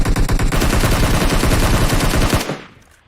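Rapid automatic gunfire in a shooter video game, a loud close burst of dense shots lasting a few seconds, then cutting off into a brief fading tail.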